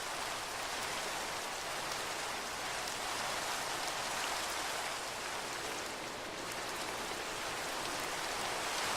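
Steady rain from the Minecraft video game falls as an even, hissing wash of drops, continuous and alone with no voices.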